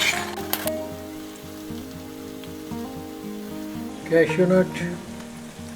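Guntur chilli chicken, Andhra style, sizzles and crackles steadily in a pan, with a quiet, continuous frying hiss under a person's speech.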